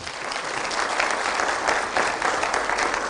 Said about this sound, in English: I think a better round of applause.